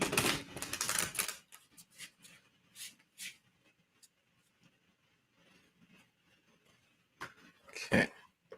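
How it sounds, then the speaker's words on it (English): A deck of tarot cards being shuffled, with dense riffling clatter at the start, scattered soft taps in between, and another short flurry of riffles near the end, all close and fairly quiet. "Let me go ahead and shuffle this real quick."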